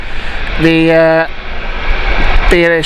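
A British Airways Boeing 777 taking off at Gatwick Airport produces a steady, broad engine roar, with a voice talking in bursts over it.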